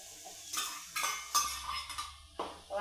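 A spoon stirs chutney into brinjal oro in a pan, with several distinct scraping strokes and light metallic clinks against the pan over a soft sizzle, close and fairly loud.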